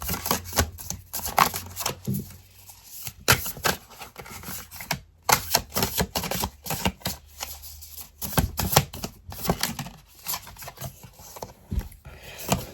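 Tarot cards being shuffled and drawn by hand, a busy run of crisp riffling, slaps and rubbing of card stock, near and fairly steady with brief pauses, no talking.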